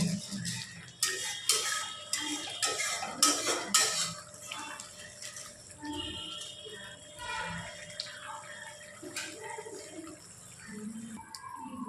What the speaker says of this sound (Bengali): এবার মশলাটা আমরা ভালো করে কষিয়ে নেব।